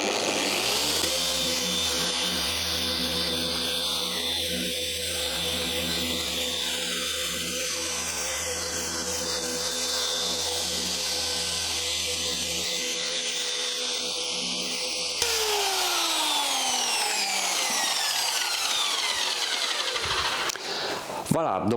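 A machine polisher buffs car paint with 3D 520 finishing polish, giving a steady, close whir that shifts pitch as pressure and speed change, with a voice talking over it.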